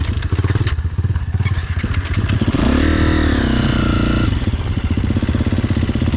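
A dirt bike at an off-road park, with its engine chugging loudly at low revs close by, then rising in a revving pull as the rider moves off, and settling back to a rough, pulsing idle.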